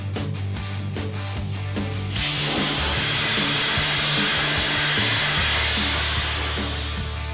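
Dustless blaster stripping paint from the outside of a mortar mixer starts up midway into a loud, steady broadband hiss of blasting media over a low engine drone, close and continuous.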